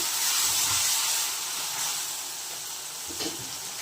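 Ginger garlic paste frying in a pan gives a steady, close steamy hiss and sizzle that eases slightly toward the end.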